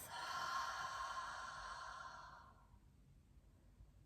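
A slow, audible exhale through the mouth during a guided deep-breathing exercise, a soft airy breath lasting about two and a half seconds before fading into quiet room tone.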